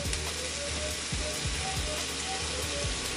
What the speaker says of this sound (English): I'm just gonna add the cauliflower now.